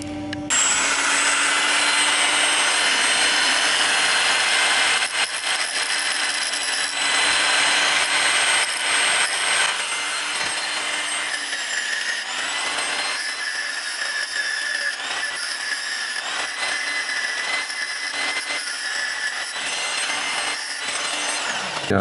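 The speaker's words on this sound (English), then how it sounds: "first we're gonna take this fella off by the angle grinder." An angle grinder cuts a part off a Honda VTR 1000 Firestorm motorcycle, a loud, steady high-pitched whine and grinding rasp that runs continuously, with pitch dips and brief changes in load as the disc bites.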